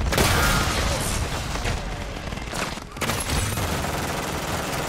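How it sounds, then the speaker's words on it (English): Dense, continuous gunfire rattles without pause in a Call of Duty MW3 Zombies match, rapid bursts and booming shots layered loud and close, with a brief dip near the three-second mark before the barrage resumes. "so I'm gonna start shooting zombies"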